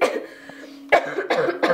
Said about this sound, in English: you seriously need to take care of that cough though